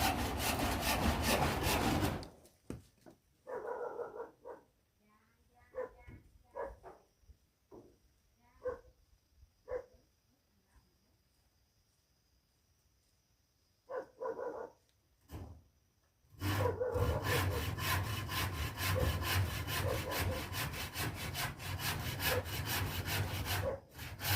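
A hand saw cuts through wood in a series of rhythmic back-and-forth strokes, framed by stretches of loud, continuous grinding noise.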